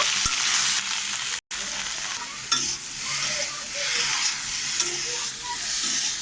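Cauliflower fries in a pan with salt and turmeric, a loud steady sizzle with repeated scraping stirs and a brief cut-out early on, no one speaking.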